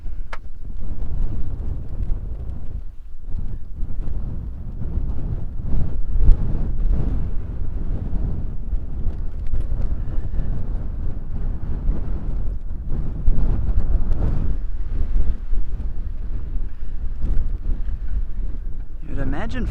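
Strong wind buffets the microphone outdoors on a safari drive in rhino country, a steady low roaring rush with gusts that persists throughout, and faint speech may be mixed in beneath it.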